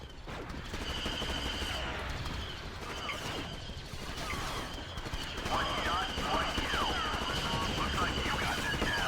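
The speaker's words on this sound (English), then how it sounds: "Oh my god, I'm shooting a lot of them." Blaster gunfire rattles through a Star Wars Battlefront 2 modded battle on a Mustafar burning-platforms map, rapid repeated shots over dense battle noise with a voice talking over it.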